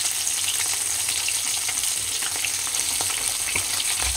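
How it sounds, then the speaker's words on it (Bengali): Fish bones fry in hot oil with a steady, close, dense sizzle and crackle that runs unbroken, with no talking. "মাছের পিসের মতনই ভাজা হচ্ছে কাঁটা"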